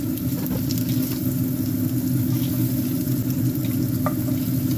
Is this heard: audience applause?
no